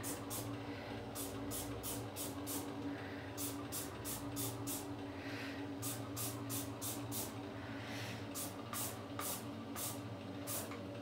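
A handheld spray bottle fires bleach onto a shirt in a rapid series of short, crisp spritzes, grouped in bursts over low background hum.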